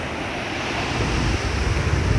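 Sea surf washes continuously onto a beach, a broad steady roar mixed with wind noise on the microphone, growing slightly louder toward the end with no talking.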